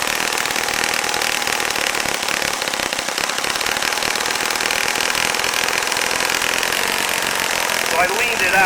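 A Saito FA-65 model engine runs close and loud with a steady buzzing drone while its low-end idle is adjusted, and someone talks over it.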